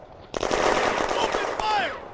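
Rapid German machine gun bursts and mortar fire in an animated May 1940 battle at the Flaumont industrial zone, a dense, loud continuous clatter of shots lasting nearly two seconds with a voice briefly audible.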